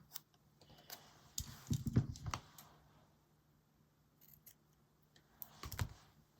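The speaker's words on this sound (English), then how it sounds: "scissors." Scissors snipping paper while a colouring journal page is prepared, a few short crisp cuts clustered near the start and again near the end, close and fairly quiet with no talking.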